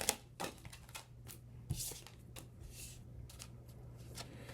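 Tarot cards are shuffled and drawn for a Scorpio reading, giving a steady run of soft papery riffles and light flicks at close range, with no voices.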